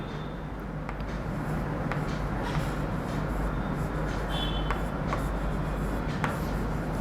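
Pen or chalk writing out an example, with faint scratchy strokes and light taps over a steady, loud background hiss of moving air filling the room.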